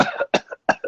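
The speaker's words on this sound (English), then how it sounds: "Coughing." A man coughs three sharp times in quick succession after breathing in smoke, each cough close, loud and harsh, with a brief gap between them and nothing else heard.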